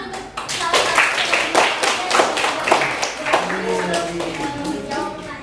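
A classroom of students claps hands together for a fellow student during a school lesson, a dense burst of close, uneven hand claps, with voices faintly mixed in.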